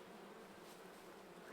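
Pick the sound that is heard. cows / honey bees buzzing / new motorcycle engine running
honey bees buzzing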